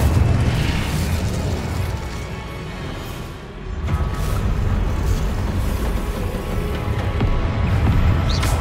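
A fiery Incendio spell cast in Hogwarts Legacy roars as a dense, continuous blast of booming, crackling fire, loud and sustained with a brief dip midway, no voices over it.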